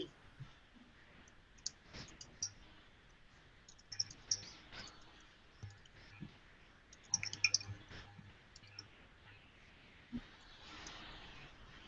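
Sparse, light clicks of typing on a computer keyboard during an online group call, coming in small irregular bursts with pauses, fairly quiet and close, with faint background sound between keystrokes.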